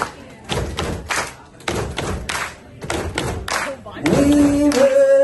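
A group of students beats out a steady repeating pattern, two thumps on their desks and then a clap, four times over, at a malaria awareness skit; toward the end the pattern gives way to louder clapping and steady tonal voices.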